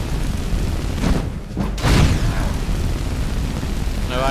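A fire destruction spell cast in modded Skyrim roars continuously, with two booming, explosive bursts a moment apart partway through, then a sustained rumbling flame that stays loud to the end.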